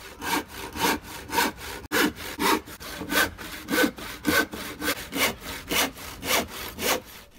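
Hand saw cutting through old plywood for shelf supports, a steady rhythmic back-and-forth rasp of about two strokes per second, close and loud with no talk.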